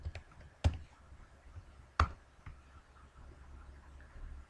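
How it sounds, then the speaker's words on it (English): Typing on a computer keyboard at a concessions point-of-sale setup, a few sparse soft key taps with two sharper clicks, quiet and close over faint room noise, no talk. "So I can just type in popcorn"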